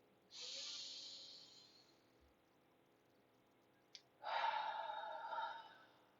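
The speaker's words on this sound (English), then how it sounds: "I'm going to invite you to take a deep breath with me" Two deep breaths taken slowly and alone, close: a long airy inhale, a quiet pause with a small click, then a second, fuller and louder breath that fades out.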